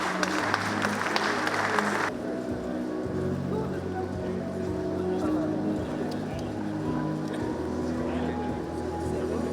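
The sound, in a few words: audience clapping for dignitaries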